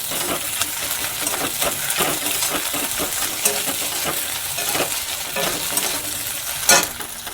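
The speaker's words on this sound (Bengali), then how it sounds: "এবার মশলাটা কষাবো, আমি সেই জন্য গ্যাসের ফ্লেমটাকে একটু কমিয়ে দিলাম।" Spice masala with ginger paste fries on a lowered gas flame while a utensil stirs it, giving continuous close sizzling with repeated scraping and clinking strokes throughout.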